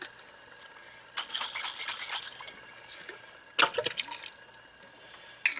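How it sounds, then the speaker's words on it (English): Water sloshes inside a chili seasoning bottle in a kitchen, with a few short rattling splashes in quiet bursts separated by near-silence. "put a little water in the bottle."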